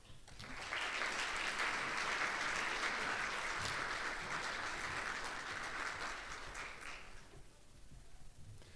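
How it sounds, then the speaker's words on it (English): An audience applauds teacher of the year finalists with a sustained wash of clapping that rises quickly, holds, then tapers off and stops, leaving quiet room tone. "So let's do another round of applause as soon as she receives her apple for all of our finalists"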